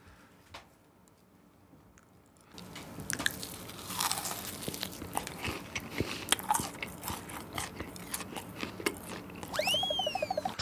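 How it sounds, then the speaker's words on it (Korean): Kyochon fried chicken dipped in mala tteokbokki sauce being eaten up close: after a quiet start, crisp crunchy bites and chewing follow in quick irregular succession, loud and near, without talk. "떡볶이 찍어 먹어보자."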